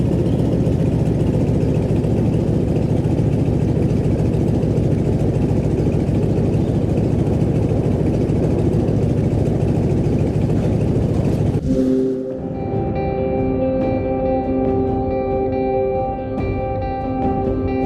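A Stearman biplane's radial engine idling while taxiing, a loud, steady low rumble with a rough pulsing texture that abruptly drops to a lower, quieter idle with distinct humming tones for the final few seconds, no voices.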